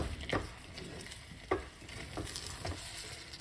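A spoon stirs eggplant curry with vegetable stock in a pan, giving a few distinct scrapes over a low, steady simmering sizzle, fairly faint and with no talking.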